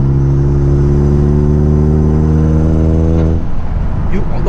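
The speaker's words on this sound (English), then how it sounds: "the only thing you hear is the exhaust a bit, the turbo" A 2018 Hyundai Elantra Sport's turbocharged engine pulls in 6th gear with steady low droning harmonics, exhaust rumbling up close, then the tone breaks off into rougher, uneven noise near the end.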